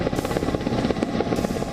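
A Mi-17V5 military medium-lift helicopter flies past with a loud, continuous rotor thudding and a steady engine whine, close and dominant with no talk.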